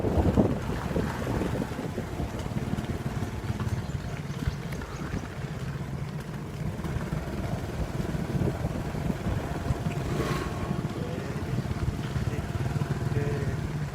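A boat motor runs steadily throughout, a constant low rumble heard from on board amid wind buffeting the microphone and open water around.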